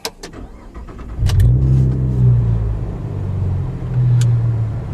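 Chevrolet Camaro V6 fitted with an MRT axle-back exhaust starting up, heard from inside the cabin: a sharp starter crank, then a loud catch into a deep rumbling idle that swells briefly again near the end.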